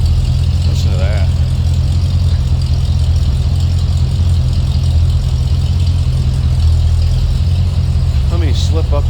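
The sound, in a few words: 1949 International KB2 truck V8 engine idling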